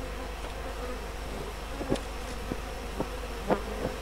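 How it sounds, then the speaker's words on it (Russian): Honey bees buzz as they are blown out of hive boxes with a leaf blower, a steady, moderately faint insect drone with a few brief louder passes near the microphone and no speech. "И выдуваются из корпусов все пчелы."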